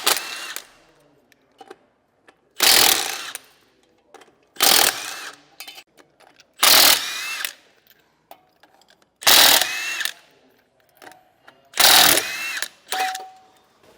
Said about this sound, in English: So I just have a 3/4 inch socket. Just go through, take all the lug nuts off.